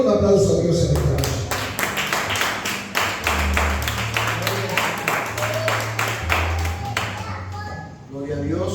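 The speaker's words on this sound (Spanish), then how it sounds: "un aplauso a Dios en esta noche." A church congregation applauds together at a service, a dense run of steady clapping with a few voices calling out over it, nearby and fairly loud, tapering off near the end.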